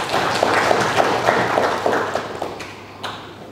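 Audience applause fills a hall during a speech event, a dense wash of clapping with scattered sharper claps that gradually thins out toward the end.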